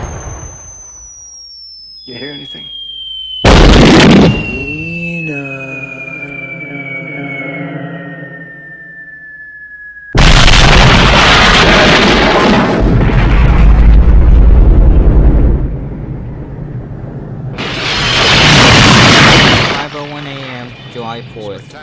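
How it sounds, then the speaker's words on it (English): A sudden, huge explosion from the film Return of the Living Dead, a Fourth of July blast that levels a city, bursts in loud and broadband after a descending whistle and a voice, roaring on for several seconds before a second rumbling swell. "Then a split second after, the explosion."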